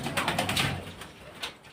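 Pigeons coo softly nearby, a few low throaty calls in quick succession.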